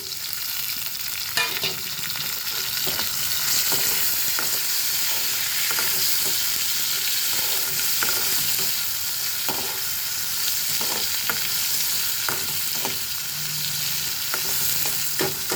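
Tomato pieces fry in a pan for a fish and brinjal curry, with a continuous near sizzle and scattered sharp stirring clicks throughout and no talking.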